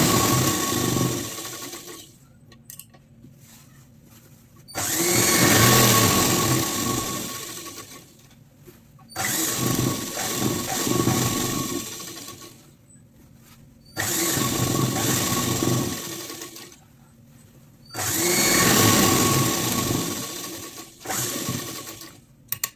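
Sewing machine running stitches around the stretched elastic waistband of a circular umbrella palazzo, in four long bursts of steady mechanical whirring separated by short quiet pauses while the fabric is repositioned.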